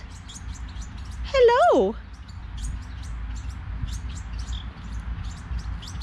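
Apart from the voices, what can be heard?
house wren fledglings chirping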